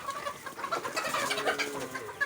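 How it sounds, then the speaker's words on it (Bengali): A flock of Fayoumi chickens on a farm in Rangpur, Bangladesh cluck and chatter softly nearby, a busy overlapping scatter of calls at low volume. "মুরগি একদম সুস্থ সবল এবং চঞ্চল"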